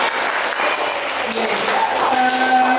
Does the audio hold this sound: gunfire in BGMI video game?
no